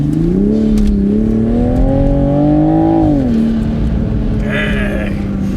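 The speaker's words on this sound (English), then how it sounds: "You can actually hear the turbos." Toyota Supra accelerating hard from the cabin, engine drone rising smoothly before easing off at lift, followed by a brief airy turbo whoosh and flutter at the end.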